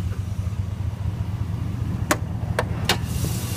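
A 2000 Chevy 2500 4x4 pickup with a 6.0 Vortec V8, cold air intake and lift kit runs steadily at a low idle rumble, with a few brief sharp clicks or ticks near the end.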